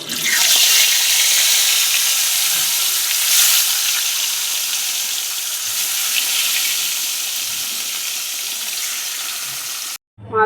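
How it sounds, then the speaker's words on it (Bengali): Fish rubbed with salt and turmeric fries in hot oil, a loud, steady, close hiss and crackle that runs nearly unbroken before cutting off abruptly near the end. "মাছগুলো লাল লাল করে ভেজে নিয়েছি"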